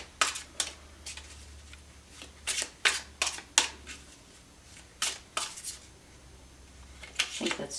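Tarot cards are riffled and shuffled in quick irregular bursts, crisp papery snaps close by, with brief pauses between handfuls as cards are drawn.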